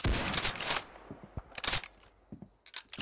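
Rifle gunfire in the video game Arsenal, quick bursts of sharp shots in clusters separated by brief lulls, moderately loud over faint background game noise.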